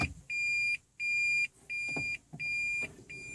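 Reverse warning from a 2014 Toyota Prius, a clean high electronic beep repeating in a steady on-off rhythm about every half second, faint and close inside the cabin with light rustling between tones.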